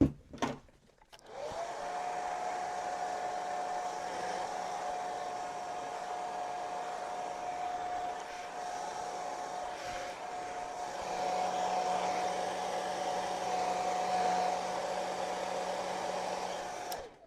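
Hair dryer on a low setting blowing steadily while hair is styled for volume, a close, continuous whir that switches on after a brief click and runs unbroken to the end.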